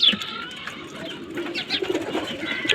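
Pigeons in a loft holding a mix of breeds, including racers, coo softly and repeatedly against a faint, steady background, with no other sounds intruding.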